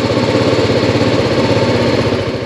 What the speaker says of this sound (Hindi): सिंपल सा मैंने स्टार्ट बटन दबाया और मेरी बाइक ऑन हो गई।